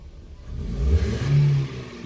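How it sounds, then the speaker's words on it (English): A car engine that has been choking revs at full throttle in neutral. It is a loud, close, rising roar that holds a high, strained drone for about a second before easing slightly, with no voices. "We're gonna put it full throttle."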